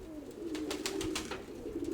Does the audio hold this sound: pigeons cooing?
yes